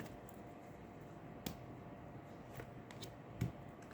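Tarot cards get a last short shuffle: a few soft papery flicks and one or two sharper taps over a quiet room hiss.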